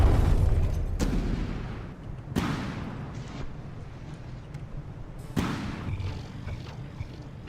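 Ship guns boom in the naval combat game From The Depths during a frigate battle, with three heavy blasts spaced a couple of seconds apart over a rumbling low background, each decaying into a rolling tail.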